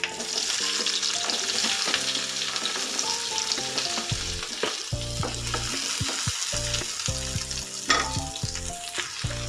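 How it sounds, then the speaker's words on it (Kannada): Onions frying in hot oil for a ridge gourd sambar, a steady loud sizzle running throughout with no speech, while background music plays over it. "ಈ ಒಂದು ಟೈಮಲ್ಲಿ ನಾವು ಇದಕ್ಕೆ ಈರುಳ್ಳಿಯನ್ನು ಹಾಕಿ ಫ್ರೈ ಮಾಡ್ಕೊಳ್ಳೋಣ."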